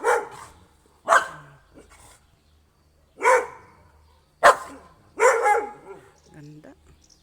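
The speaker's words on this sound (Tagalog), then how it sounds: "Ang ingay ng aso." Several sharp dog barks arrive in separate bursts spaced about a second or two apart, fairly close and loud, with a brief whimper-like tail near the end and no talking over them.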